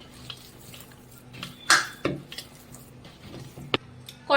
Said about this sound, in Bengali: এইভাবে ভালো করে ঠেসে ঠেসে আমরা মেখে নেব।